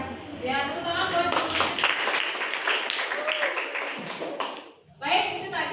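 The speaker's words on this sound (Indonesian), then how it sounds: "Ya, tepuk tangan buat." Hands clapping in a classroom after a student presentation, a scattered burst of applause with voices mixed in, stopping briefly before another short round of clapping and talk.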